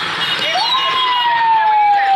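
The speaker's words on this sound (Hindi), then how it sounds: "एम्बुलेंस निकलवा, एम्बुलेंस आ रही है" An ambulance siren wails steadily through city traffic, a sustained rising then falling tone heard fairly close over a constant roar of engines and road noise.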